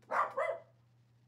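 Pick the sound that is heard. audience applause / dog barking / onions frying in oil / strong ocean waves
dog barking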